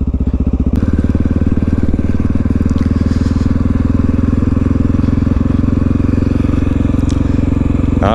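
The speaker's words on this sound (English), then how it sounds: "This is my first ride on the XR650L off-road" A Honda XR650L motorcycle ridden off-road, its single-cylinder engine thumping loud and steady throughout, close up with a sharp burst at the start.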